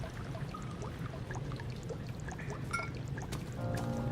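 Oil trickles and pours with a soft, continuous liquid gurgle in the dark surroundings of Amnesia: The Dark Descent, faint and steady, joined by a few small clinks near the end.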